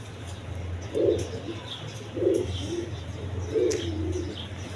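Pigeons on a farm coo in three distinct rolling bursts about a second apart, close and clear above a low hum, with faint chirps in the background.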